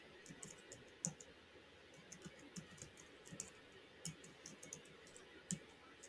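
Light, irregular clicks of keys being typed on a computer keyboard. The taps are faint and scattered, with no voices, over a quiet room hiss.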